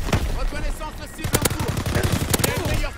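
Rapid gunfire from a powerful but sluggish weapon in Call of Duty WW2, Heroic mode, bursts of loud close shots in quick succession repeating across the clip with dense battle noise behind.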